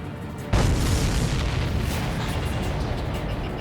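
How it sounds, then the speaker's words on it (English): A loud explosion in Ace Combat 7 bursts suddenly during an F-22A air battle, followed by a long, rumbling roar that stays loud to the end. "Did you see that explosion?"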